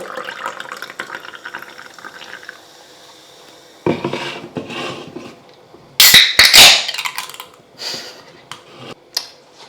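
Ingredients being mixed in a dish while making a spicy chip challenge concoction: scraping, clinking and rubbing against the bowl come in irregular bursts, loudest and harshest in the middle, with quiet gaps between.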